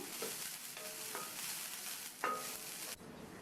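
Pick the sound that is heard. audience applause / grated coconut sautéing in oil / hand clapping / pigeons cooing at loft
grated coconut sautéing in oil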